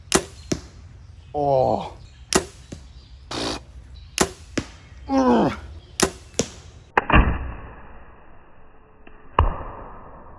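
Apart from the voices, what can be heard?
arrows shot at a tall weed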